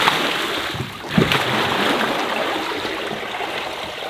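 Steady gush of water spilling out and splashing, a continuous broadband rush with a brief burst near the start, no talking.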